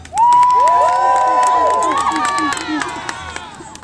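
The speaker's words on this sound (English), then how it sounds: "A cheer for me!" A crowd at a staged knightly tournament cheers for Sir Tristan of Lyonesse, a loud, close burst of many voices shouting and whooping that surges at the start, then gradually thins out.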